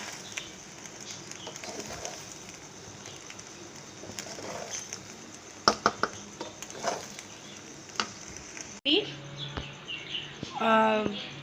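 Pasta being stirred in a pan over the heat, with a low sizzle and several sharp utensil knocks and scrapes. Birds chirp faintly in the background, and a voice speaks near the end.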